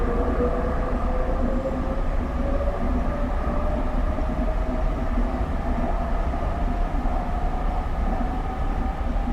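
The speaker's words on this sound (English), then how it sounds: "That is the sound of how the Silverliner IVs take off." A SEPTA GE Silverliner IV electric commuter train pulls away from a station stop, its motors rising in a steady climbing whine over a constant loud rumble of wheels and car body, with no voices.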